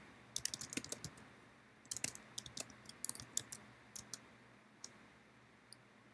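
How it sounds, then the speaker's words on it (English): Bursts of key clicks from a computer keyboard during manual data entry, quick irregular taps in clusters separated by short pauses, fairly quiet and close with no voices. "I'm going to manually enter that in. It's not on any of these albums, so I'm going to type that in."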